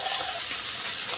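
Water being poured into mustard paste while koi fish steamed in mustard is prepared, a steady close gushing pour lasting the whole moment.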